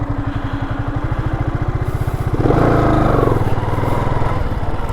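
A motorcycle engine idles close by with a fast, even, throbbing putter that grows a little louder and rougher partway through, with no voices.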